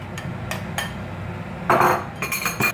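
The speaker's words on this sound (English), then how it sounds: "Now I'll also put in the carrots" Carrot pieces dropping into a cooking pot, a few short clinks and clatters close by over a low background hum, ending in a quick cluster of knocks.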